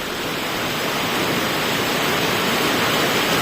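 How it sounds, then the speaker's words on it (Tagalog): Steady rain pouring outdoors, a dense, even hiss that fills the whole moment at constant loudness, close and unbroken, with no voices. "Uwan man."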